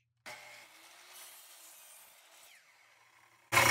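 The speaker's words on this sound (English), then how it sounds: "I'm just going to cut off a little bit off the edge." A saw with a carbide blade trims the edge off a piece of wood for a bird table: a short cutting bite followed by the blade's whine slowly winding down, then a sudden loud burst at the very end.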